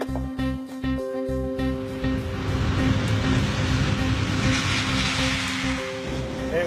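A brand new airliner taking off on a record-setting longest flight, its engines and propeller drone rising into a loud, steady roar with low rumbling throughout, heard close from inside or near the aircraft, no talking.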